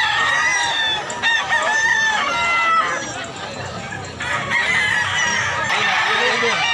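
Roosters crow repeatedly amid a crowd of clucking chickens at a busy poultry market in Mantalungon, Barili, Cebu, the loud overlapping calls filling the whole stretch with faint talk underneath.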